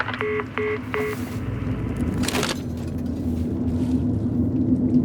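A phone in the video game Alan Wake 2 dials three quick, evenly spaced tones over a steady low engine-like rumble, followed by a brief crackle and continuing drone.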